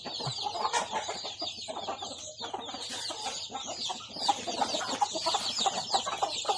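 Young fighting-cock chickens cluck and chatter close by, several birds calling over one another continuously.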